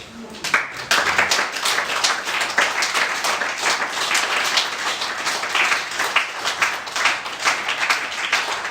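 A French-speaking church congregation applauding and cheering for Jesus during a pastor's sermon. Dense, sustained clapping from a large crowd fills the room at an even, loud level throughout.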